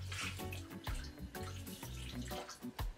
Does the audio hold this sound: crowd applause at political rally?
no